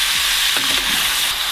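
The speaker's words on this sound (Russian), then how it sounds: "Вместе с луком жарим ровно одну минуту." Liver and onion frying together in a pan, giving a steady close hiss of sizzling fat with a few soft stirring scrapes and clicks.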